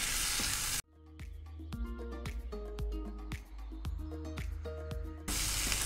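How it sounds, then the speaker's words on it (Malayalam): Stuffed squid fries in oil in a pan with a loud, steady sizzle at the start and again at the end. A tuneful music passage fills the stretch in between. "ഇനി ഇത് നല്ലവണ്ണം ഇതേപോലെ ഫ്രൈ ചെയ്ത് കൊടുക്കണം"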